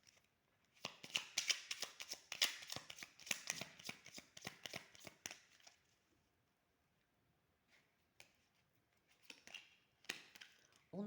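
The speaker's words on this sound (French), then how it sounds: "Ok, on va prendre une autre carte." Cards from a deck being shuffled, drawn and handled at close range: a dense run of crisp snapping and flicking for several seconds, a quiet pause, then a few softer card slides and taps.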